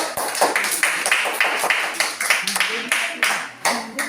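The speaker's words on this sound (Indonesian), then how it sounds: "Tepuk tangan dulu" Children in a classroom clap in a steady rhythmic unison beat, about three claps a second, loud and close, with voices mixed in.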